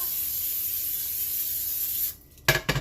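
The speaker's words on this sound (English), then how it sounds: "So I'm going to spray it first." Cooking spray hisses steadily onto a pan for about two seconds, then stops, followed by a few short clatters and knocks.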